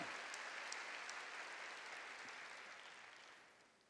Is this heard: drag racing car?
no